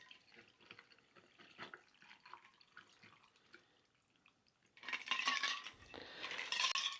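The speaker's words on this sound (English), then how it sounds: "Get the ice out of the way, and we pour." A Paloma cocktail pours and splashes into a glass over ice, a bright fizzy trickle that swells louder toward the end after quieter clinks and handling.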